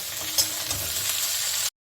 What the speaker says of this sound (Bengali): সবগুলো দিয়ে আমি আবার ভাজতে দিচ্ছি।